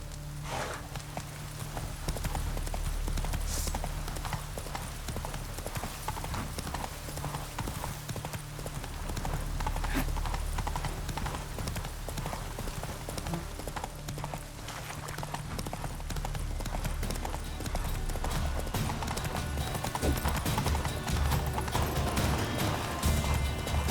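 Hooves of a horse galloping steadily in The Witcher 3 video game, a continuous loud clip-clop rhythm over game music and ambience for the whole stretch, with no talk over it.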